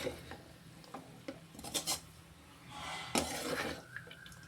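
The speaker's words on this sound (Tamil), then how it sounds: "எல்லாமே இப்படி கிண்டி வர்ற மாதிரி கிண்டி விட்டுக்கிறணும்" Egg idli upma being stirred in a pan, with a utensil scraping and tapping against the metal in short, soft bursts, fairly faint and without talk.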